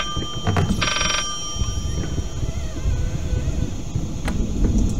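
Old telephone ringing in the horror video game Layers of Fear, a bright electronic bell trill that bursts out briefly over a dark, rumbling ambient background with scattered clicks.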